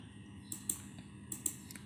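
A username is typed on a computer keyboard: two short bursts of crisp key clicks, close and fairly quiet, with a soft hum between them.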